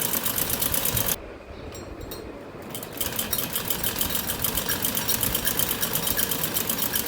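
A sewing machine runs fast, stitching a salwar with close, rapid mechanical chatter; the whirring pauses briefly near the start, then resumes as a steady, even stitching rhythm.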